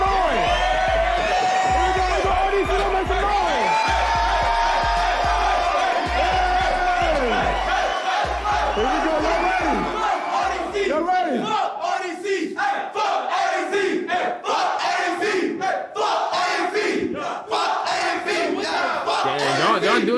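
A game show studio audience yells and cheers loudly in a sustained roar, with whoops and excited shouting and a thumping beat underneath at first.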